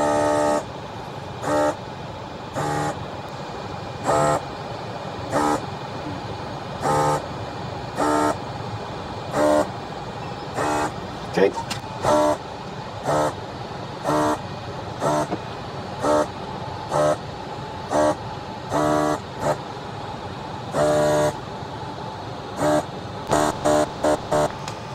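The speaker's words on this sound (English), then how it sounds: "we're gonna use our Hakko FR-301 desolder pump for this" A Hakko FR-301 desolder pump removes solder from joints on a Vizio M70-C3 TV power supply board: a steady motor hum punctuated by dozens of short, evenly spaced bursts of suction, close and loud, with no talking.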